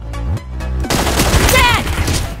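Gunfire in the PUBG Mobile shooter game: a few spaced shots, then a loud sustained burst of rapid automatic fire with booming impacts and game voices over the action.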